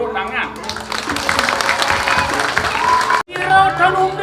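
An audience at a Balinese drama gong performance applauds, a crowd of clapping mixed with voices and music, broken by a brief cutoff before the sound resumes.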